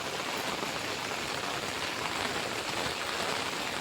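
Heavy rain pouring down steadily, a dense, continuous hiss of drops on surfaces that stays loud and even throughout with no voices.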